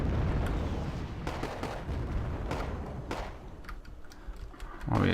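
Cobra helicopter rockets striking targets in the strategy game Wargame AirLand Battle, a dense rumbling barrage of distant explosions with repeated sharp impacts over a continuous low roar.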